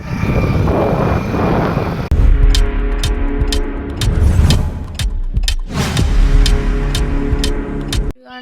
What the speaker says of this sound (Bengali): আজকে আমি বাইক চালাচ্ছি।